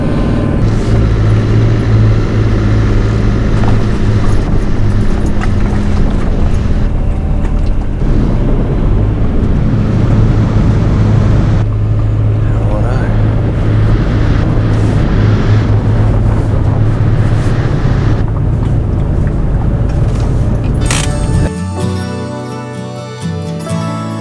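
Barge carrying vehicles across to Fraser Island gives a loud, steady engine drone with wind buffeting and water rush, then cuts to a quieter scene near the end, with no talk.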